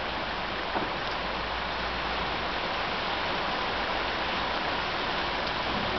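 Heavy cloudburst rain pours down on Rome at night, a dense continuous hiss of downpour and running water with a faint knock near the start and no speech.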